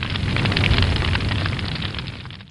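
A dry, unprocessed fire sound effect gives a short crackling, roaring burst. It starts strong and fades over a couple of seconds, with no voices.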